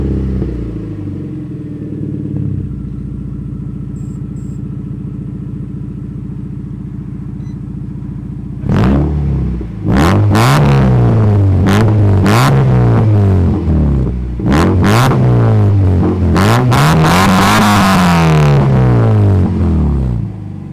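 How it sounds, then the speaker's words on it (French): A Mazda MX5 Miata with a modified, deeper-toned exhaust idles steadily, then is revved hard in a series of sharp, loud blips rising and falling, followed by a longer sustained rev, all close up with no talking. "j'ai préféré changer un peu le style d'échappement et faire en sorte que le bruit, à la place d'être trop clair, qu'il devient un peu plus sombre"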